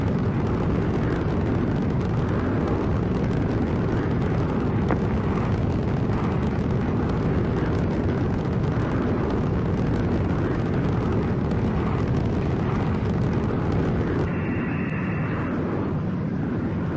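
Simulated space shuttle Discovery climbing during an STS-133 launch in FlightGear, with a loud, steady rocket roar lasting throughout and a brief change in tone near the end as the twin solid rocket boosters separate.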